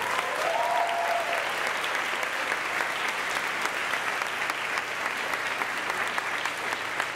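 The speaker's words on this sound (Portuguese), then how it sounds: "Convido para esse aplauso também a menina tão incrível, que tanto nos ajudou com o figurino." An audience applauds at a school choir's 30th anniversary concert, a dense, even wash of clapping that fills the whole stretch at a steady level, with a voice briefly heard at the start.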